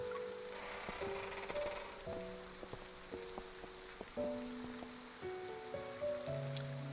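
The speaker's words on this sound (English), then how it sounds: "suddenly we're caught in the rain and find ourselves completely drenched" Steady, soft rain patters throughout, faint and wide, under a gentle melodic tune of plucked tones and occasional light taps.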